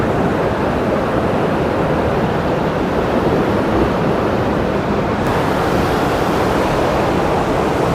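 Water rushing through an irrigation water separator, a loud, dense and unbroken roar that holds steady throughout with no voices.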